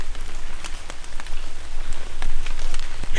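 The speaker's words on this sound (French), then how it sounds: "J'ai que de la forêt, de la pluie." Steady rain patters densely on surfaces in a forest, with crisp individual drops ticking close by over a continuous wash of falling water.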